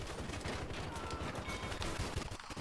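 Pistol gunfire in the Battlefield Hardline video game, a dense run of loud shots with battle noise layered beneath, continuous across the short stretch.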